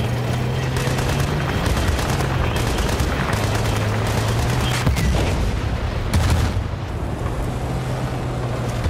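Gunfire in a video game with tanks: dense, loud bursts of shooting and explosions mixed with a steady engine drone, near and continuous across the whole stretch.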